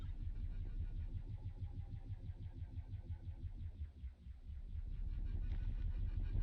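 A built vehicle with all-wheel steering and a small radiator on its engine drives in Scrap Mechanic, its engine giving a steady, throbbing mid-pitched hum with a pulsing rhythm that swells slightly toward the end.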